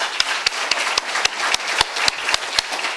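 A small audience claps at a university town meeting, a few distinct sharp claps close by over a softer bed of scattered applause, lasting a few seconds with no talking.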